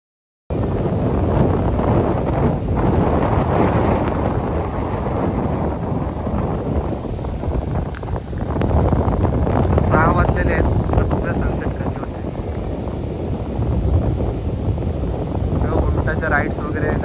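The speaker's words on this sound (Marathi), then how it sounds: "बीच वरती वारा खूप असल्यामुळे व्हिडिओमध्ये काहीच आवाज येत नव्हता" Strong wind buffets a beach microphone, a constant loud roar that persists throughout, with faint hints of surf and boats in the distance.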